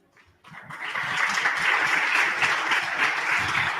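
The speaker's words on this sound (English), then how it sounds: "Great applause to everybody." An audience bursts into applause after a brief quiet moment, with the clapping building quickly and holding at a steady, moderately loud level to the end.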